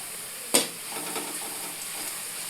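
A puffed rice tempering with turmeric and fried onions is stirred in a pan, with one sharp scrape at the start followed by a steady soft sizzle and faint stirring.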